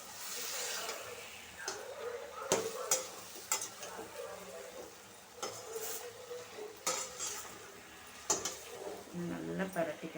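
Chicken masala in a pan being stirred and fried as a spicy chicken gravy, with a soft background sizzle broken by repeated sharp scrapes and clinks of a spoon against the pan, fairly quiet overall.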